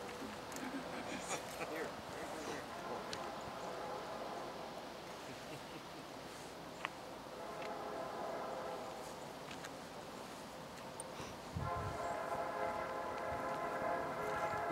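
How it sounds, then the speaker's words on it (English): A freight train rumbles past at a distance with a steady low roar and faint rail squeal, soft throughout and building slightly near the end, with people talking in the background. "This would be what, the seventh freight train?"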